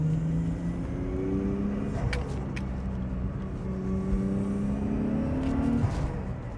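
A Toyota 1JZ straight-six engine in a Toyota Chaser JZX100 rumbles steadily at close range, its pitch climbing and falling through several rising revs, with no voices present.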